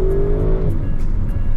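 A 2021 Audi RS7 with a 600-horsepower engine downshifts while driving: a loud engine note steps down in pitch, and a throaty rumble follows up close inside the moving car.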